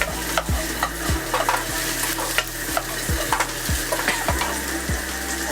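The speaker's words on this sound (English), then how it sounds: "Now the pork belly goes in." Pork belly stir-frying for Thai pad kaprao sizzles steadily in a hot pan, with repeated scraping strokes of a spatula recurring about every half second, close and alone.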